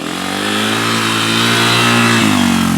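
Dirt bike engine held at high RPM in a low gear, a loud, steady, buzzing whine with strong harmonics that rises slightly in pitch, close and alone.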